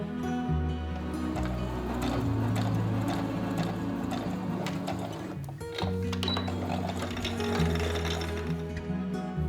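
A sewing machine stitches fabric for a pacifier clip in a steady, close mechanical whir with rhythmic ticking, pausing briefly around the middle before running on.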